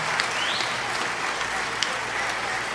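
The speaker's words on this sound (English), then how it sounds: "you deserve a round of applause" A steady round of applause washes through at moderate volume, a dense even patter of claps with a few sharper hand strikes standing out, and no talking over it.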